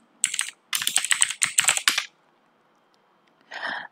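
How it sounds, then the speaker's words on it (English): Quick bursts of keystrokes on a computer keyboard as a terminal command is typed, close and fairly loud, in several rapid clusters with a short pause and a final brief flurry. "So we're going to type in makedir filebrowser."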